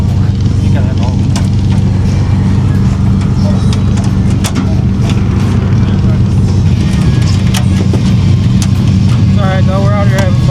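A drag racing car engine at night at Milan Dragway rumbles loudly and continuously nearby, a dense low roar with occasional revs and background crowd noise throughout.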